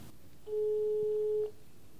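Ringback tone of an outgoing phone call on a Samsung Gear S smartwatch, a single steady electronic beep lasting about a second over quiet room noise.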